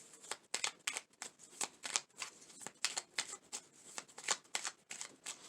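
A deck of message cards is shuffled close up in quick, crisp bursts of riffling flicks, repeating in a steady rhythm over several seconds with no talking.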